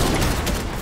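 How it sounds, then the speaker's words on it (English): Rapid gunfire in Fortnite strikes the player, a dense, continuous crackle of shots filling the short moment at steady loudness, with no talk over it. "Oh, yeah, I'm getting shot!"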